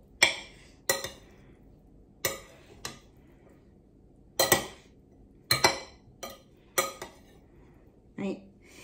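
Rice salad being mixed in a bowl with utensils, a series of separate clinks and scrapes spaced irregularly over quiet, close and fairly crisp.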